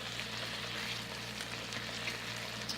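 Steady, soft sizzling of BBQ butter steak frying in a pan, a continuous close crackle with faint spits, no voices over it.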